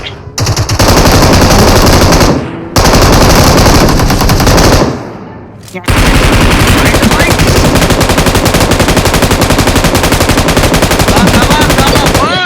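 Rapid sustained automatic gunfire in PUBG Mobile, loud and close, with a couple of brief pauses before a long continuous burst.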